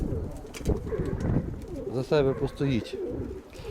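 A pigeon coos in soft, throaty bursts while someone talks nearby.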